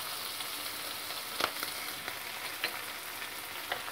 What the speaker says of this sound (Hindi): और अच्छे से भून लेते हैं प्याज को